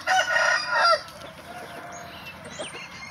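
Rooster crowing loudly up close for about a second, followed by softer clucking and scattered bird calls in a farmyard.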